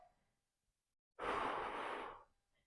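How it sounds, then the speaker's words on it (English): A single long, forceful exhale during an alternating dead bug Pilates exercise, loud and breathy for about a second after near silence, with no talking. "You can focus on that breathing if it helps."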